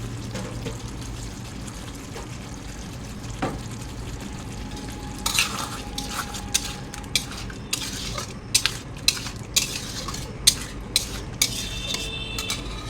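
Masala and soaked soybean chunks being stirred and fried in a pan, a spoon scraping and clinking against the metal in an irregular rhythm over a steady low sizzle, close and fairly quiet.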